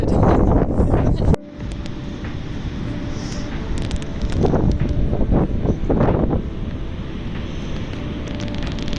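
Strong wind buffeting the microphone on the Cliffs of Moher in Ireland, a loud continuous roar with gusty surges throughout, close and dominant.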